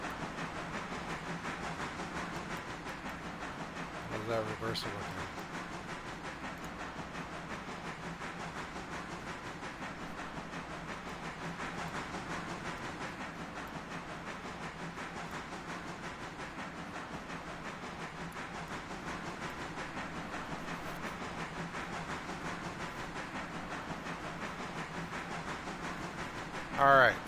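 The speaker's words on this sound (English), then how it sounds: "Alright, we got this freight car moving." A freight train car rolls along the rails in a steady, continuous rumble with a faint hiss, running the whole time beneath a voice asking a question, with a short louder bump midway and at the end.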